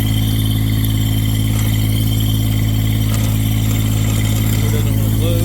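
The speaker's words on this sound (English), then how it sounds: "but they have the Kubota Diesel engine." A 2025 IRE20 mini excavator's 14-horsepower Kubota diesel engine runs at a steady loud drone, close by and unbroken throughout, with a faint higher whine near the end.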